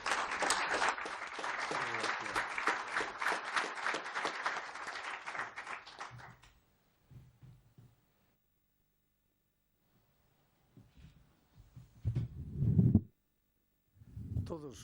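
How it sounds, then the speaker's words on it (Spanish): Audience at a book presentation bursts into applause for about six seconds, dense clapping that fades into near silence, followed by scattered faint sounds and brief low murmurs later on. "Un aplauso para él."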